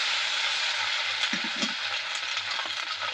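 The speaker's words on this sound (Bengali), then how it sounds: "আদাটাকে তেলে একটু নাড়িয়ে নেবো" Ginger chili paste stirred and fried in oil, a bright, steady hiss of sizzling close up with a few brief scraping strokes midway, no talking.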